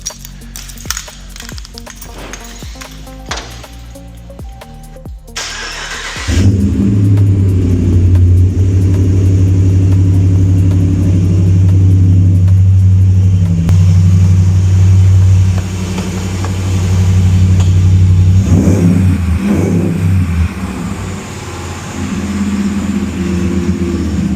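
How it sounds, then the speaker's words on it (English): A few clicks and a starter crank, then a modified Ram 1500 pickup's engine cold-starts into a loud, deep exhaust rumble that idles steadily with a brief rev. "so we'll get a cold start listen first."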